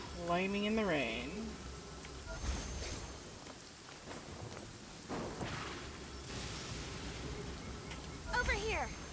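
Rain in the video game Genshin Impact, a steady hiss of falling rain at moderate level with a voice talking over it at the start and end.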